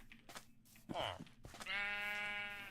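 Sheep bleating in Minecraft during a survival playthrough, with a few short wavering bleats and one longer, clear bleat near the end, heard close alongside a voice chatting.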